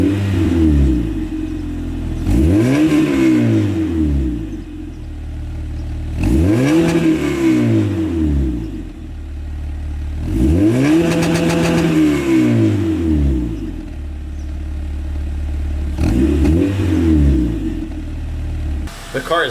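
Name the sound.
Honda Civic with K20 engine revving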